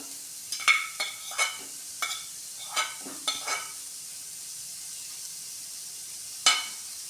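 Carrot and potato fry in a pan for a bread veg roll, with a soft steady sizzle broken by scattered scraping stirs of a utensil against the pan, close and clear.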